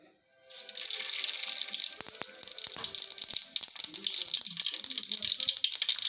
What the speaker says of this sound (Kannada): ಈಗ ಇದಕ್ಕೆ ಸಾಸಿವೆ ಆ್ಯಡ್ ಮಾಡ್ತಾ ಇದ್ದೀವಿ.